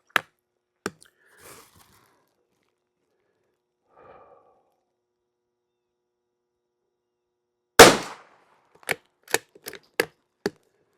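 Sharp gunshots from CCI SV rimfire rounds with Lee Liquid Alox lubed bullets: one early crack, a louder shot near the end followed by a quick string of four or five more, with quiet gaps between.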